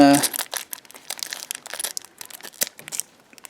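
A sports card pack wrapper is torn open and crinkled close up, giving sharp irregular bursts of crackling plastic.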